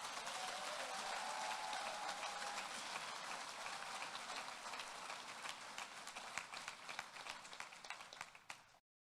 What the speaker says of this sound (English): Let us have a round of applause for the families and friends tonight